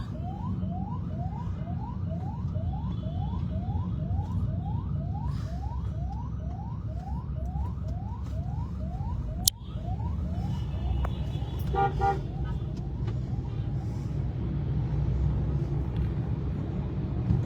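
A siren beside a hospital on a crowded street gives a long run of quick repeated whoops over heavy traffic rumble, then stops after a sharp thump, leaving horn toots and engine noise.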